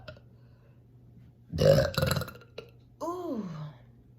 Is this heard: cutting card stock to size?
no